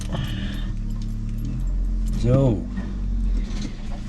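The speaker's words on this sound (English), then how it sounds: "Pardon the noise, but there's a guy in a gas-powered work truck operating beside me here." A gas-powered work truck runs close by with a steady, loud, low engine drone. Someone speaks over it.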